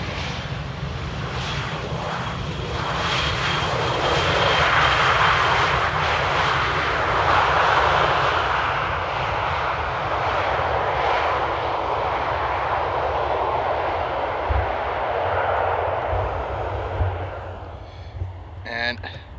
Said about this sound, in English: And there we go, first landing of the day.